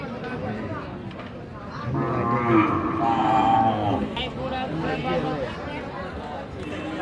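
A low cow moo rises in the middle amid general crowd noise and voices at a cattle market, moderately near.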